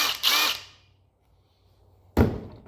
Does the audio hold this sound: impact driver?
yes